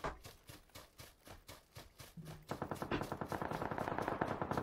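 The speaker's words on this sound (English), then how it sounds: "Yeah, he's getting shot at" Rapid gunfire from PUBG on Xbox One, quick bursts of shots in a steady rapid rhythm that grow louder and denser partway through, heard alone without talk.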